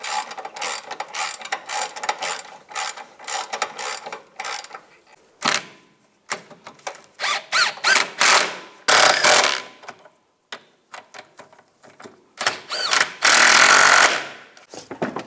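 Bolts on a BMW X3 rear sway bar are run in with a ratchet, giving bursts of quick clicking and rattling that start and stop irregularly, loud and close, with brief pauses between runs.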